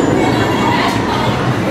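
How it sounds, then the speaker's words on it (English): An Arrow mine train roller coaster at Kings Island runs with a loud, continuous rattling rumble of cars on track, close and dense throughout. "It's a Arrow Mine train coaster."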